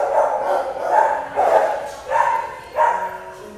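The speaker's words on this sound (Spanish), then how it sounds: "perdón por el ruido, son los perritos" Several dogs bark in a series of loud, close yaps and bow-wows near a river, coming in irregular bursts roughly every half second to second.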